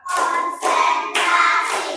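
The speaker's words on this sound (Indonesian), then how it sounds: "Tepuk tangan buat kita semuanya" A third grade class claps hands in a teacher-led rhythm game, three distinct rounds of crowded, overlapping applause-like clapping from many children, each burst lasting about half a second, fairly loud in a classroom.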